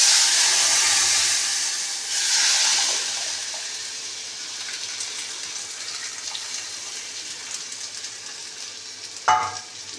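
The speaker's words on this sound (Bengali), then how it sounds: "আর দেব সর্ষে। এবার ডালটা ঢেলে দিচ্ছি।" Dal poured into hot oil tempered with mustard seeds and chilli, a loud hissing sizzle that starts strong, eases into a steady fry, then ends in a brief clatter near the close, with no voices.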